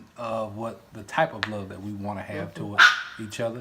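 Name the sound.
dog barking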